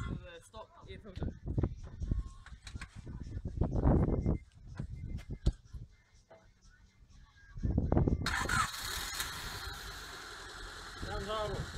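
People talk over a faint idle, then a car engine fitted with a pod air filter instead of the stock filter fires up and runs with a harsh, roaring intake hiss that drowns out everything else.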